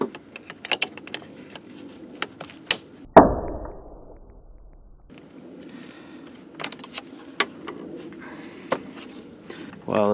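Plastic clicks and rattles of an electrical connector being unplugged and loosened in the engine bay of a 2012 Ford Fusion, a few sharp snaps close by, one heavy knock followed by a fading low rumble and quiet handling noise.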